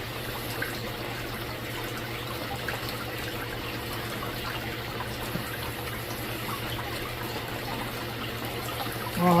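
Water runs steadily through a small gold sluice at a prospecting camp, a continuous rushing, trickling wash that holds an even level throughout with no voices.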